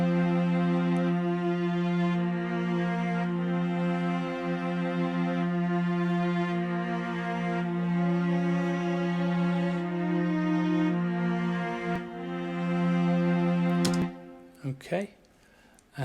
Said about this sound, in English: strings A has come from the Albion Neo strings A. This is another Spitfire.